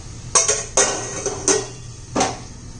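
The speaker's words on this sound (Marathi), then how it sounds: "एकदा हलवून व्यवस्थित आपण ठेवून दोन मिनिट बटाटा शिजून घेऊ व्यवस्थित" A spoon stirs diced potatoes and bell peppers in a metal pan, with about five sharp scraping clanks at uneven intervals against a quiet kitchen background.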